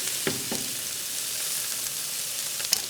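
Tuna steaks sear in a hot pan with a constant, close crackling sizzle, broken by a few sharp pops and clicks.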